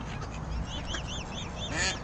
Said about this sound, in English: Got ducks.